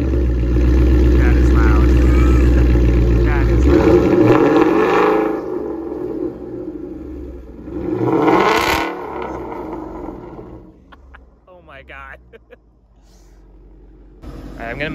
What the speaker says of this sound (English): let's get the exhaust clip on these Corsa Extremes